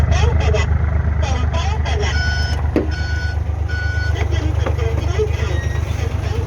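A large truck carrying a load of stone sounds repeated reversing beeps over its loud rumbling engine at close range, while people call out in the background.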